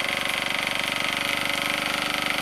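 Small model steam engine fed by a steam pipe from a boiler, running steadily at its minimum speed with a fast, even mechanical chuffing and whir, close and continuous with no talk.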